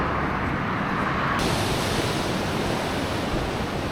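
Ocean waves break and wash along the coast beside a walking path near Zarautz, a steady loud roar of surf with wind rumble and no voices.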